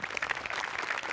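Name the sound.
audience applause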